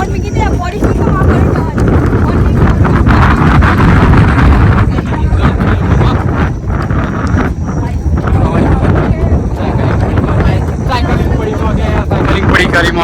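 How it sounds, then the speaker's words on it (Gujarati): A dangerous windstorm roars in strong, constant buffeting gusts pounding a handheld microphone outdoors, loud and unbroken, with voices partly buried beneath it. "વાવાઝોડું ચાલુ થઈ ગયું છે ખતરનાક"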